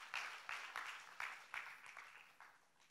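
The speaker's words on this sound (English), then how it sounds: "let's give God our very best clap offering again." A church congregation claps in a loose, uneven burst of hand claps, with sharp individual strikes repeating about every half second and gradually fading in a large room.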